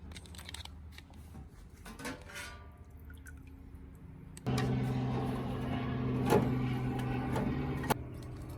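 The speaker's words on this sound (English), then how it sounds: "So I got a rusty elbow in the sonic washer right now." An ultrasonic cleaner working on a rusty exhaust elbow from custom headers for a 3SGE engine: faint clatter at first, then a loud, steady buzzing hum that switches on partway through and continues.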